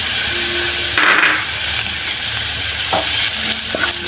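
Garlic and spices sizzle and fry in a hot tempering for carrot curry, a steady crackling hiss broken by a few brief stirring scrapes and clinks close by.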